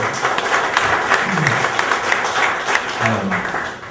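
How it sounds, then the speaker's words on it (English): An audience at a cultural celebration gives itself a round of applause, dense steady clapping throughout with faint crowd murmur and a voice rising briefly beneath it. "give yourselves a round of applause for being here"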